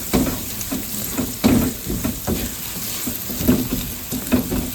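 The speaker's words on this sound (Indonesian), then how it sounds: "kita akan menggongso bumbunya ini ya teman-teman, bawang merah, bawang putih dan juga bombay. Kita aduk sampai wangi." Shallots, garlic and onion sautéing in a pan as they are stirred, a steady close sizzle with repeated scraping stir strokes through it, no voices over it.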